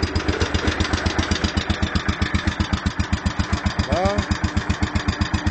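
A Gravely 5660 engine fitted with a new exhaust runs close by with a steady, rapid low thumping pulse throughout, while someone speaks briefly over it.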